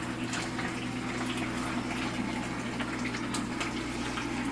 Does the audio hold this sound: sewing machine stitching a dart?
no